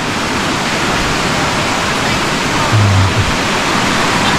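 Fresh water rushing through an abandoned hydro power house bathing area, a loud, dense, continuous roar close by, steady from start to finish with only a brief low hum near the end.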